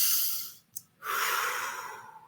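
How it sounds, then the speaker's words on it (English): A child takes a slow, deep breath close by, drawing air in, pausing briefly, then letting out a long, steady exhale. "And then he can take another breath"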